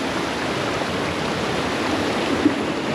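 A stream rushing through a ravine, a steady close hiss of flowing water filling the whole span at a constant level with no voices.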